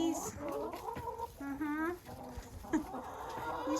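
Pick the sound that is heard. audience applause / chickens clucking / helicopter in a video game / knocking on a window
chickens clucking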